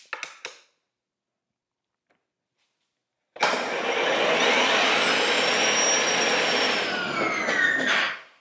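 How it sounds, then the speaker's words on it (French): An EGO POWER+ 24-inch self-propelled battery snow blower running on a single battery, with a few clicks, a pause, then a sudden loud steady whirring roar for about five seconds before it winds down; no talk. "j'ai pu démarrer la souffleuse avec une seule batterie"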